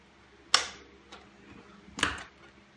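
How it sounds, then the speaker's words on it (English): Loose bezel screw on an HP Compaq laptop giving off two sharp, close clicks about a second and a half apart, with faint ticks in between in a quiet room. "You can hear it when it's loose, it starts clicking, making a clicking noise."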